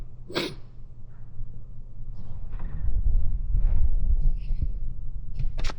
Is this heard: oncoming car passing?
no